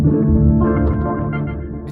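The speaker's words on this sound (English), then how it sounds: "which added this low rumbly texture with some grain delay" A guitar pad processed into a low, rumbling grain-delay texture for an experimental trap track, heard alone as a dense, sustained tonal drone with a grainy, shifting upper layer.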